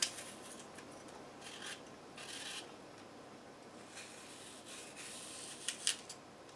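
A knife slicing apples into quarters and cutting out the cores makes soft, repeated scraping and cutting rasps close to the microphone, faint and unhurried, with no talking.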